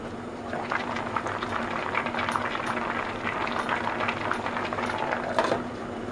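Pumpkin pieces simmer in water inside a lidded pot on a burner for soup, giving a steady, close bubbling hiss with faint ticks and rattles throughout.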